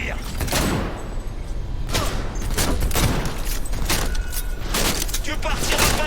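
Rapid bursts of gunfire crack through a firefight in the video game Cyberpunk 2077, loud and dense over several seconds, with a voice speaking over the shooting.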